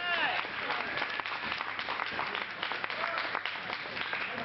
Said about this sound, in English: we also need to give a big round of applause for Scott